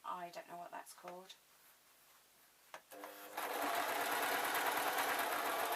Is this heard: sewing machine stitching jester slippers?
yes